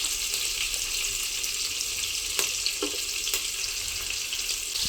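Green chilli and ginger fry in a pan of heated oil and butter with a dense, even sizzle throughout. A few faint clicks sound as the pan is touched.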